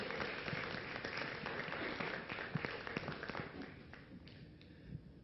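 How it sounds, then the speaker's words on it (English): Conference audience clapping, a quiet, distant patter of many hands that thins and fades out toward the end. "let's give Dr. Mishra one round of applause"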